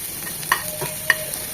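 Green chillies frying in mustard oil for a bean mash, a steady close sizzle with a few soft scraping stirs of a spoon in the pan.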